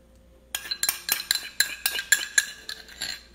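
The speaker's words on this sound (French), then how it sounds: "Un bol dans lequel je vais mélanger un quart de tasse de mayonnaise légère." A spoon stirs light mayonnaise in a bowl, giving a quick series of clinking scrapes against the dish, close and fairly quiet with no talk.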